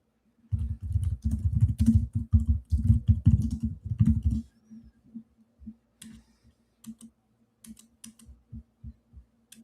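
Fast, dense computer keyboard typing fills the first few seconds, close and loud, then thins into scattered single key taps and short pauses.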